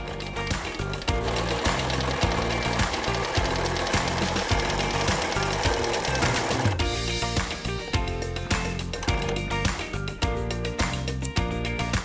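Sewing machine stitching a quilted table runner, running as a steady, fast mechanical chatter that fills the whole stretch with little pause and no talk over it.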